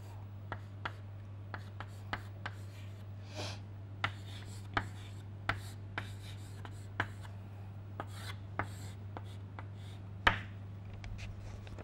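A pen or chalk taps and scratches out an equation by hand in a thermodynamics lecture, with sparse, sharp clicks and short strokes spread across a steady low electrical hum and no speech.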